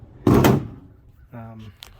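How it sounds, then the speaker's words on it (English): A DECKED truck bed drawer system installed in a 2006 Toyota Tundra gives one loud, close thud as a drawer shuts, followed by a brief moment of someone talking. "the drawers both open up and close just fine"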